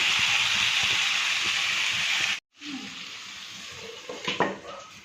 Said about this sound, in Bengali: মাটনটাকে এখন ঢাকা দিয়ে আরও 10 মিনিট মতন ভালো করে মাঝে মাঝে নেড়ে চেড়ে আরও 10 মিনিট মতন কষিয়ে নেব